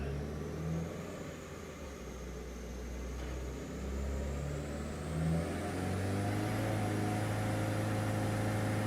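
A tuned car with an IAG 750 engine, Blouch turbo and flex fuel on a Link G4x ECU, its engine droning steadily and rising slowly in pitch under load, heard from inside at moderate volume.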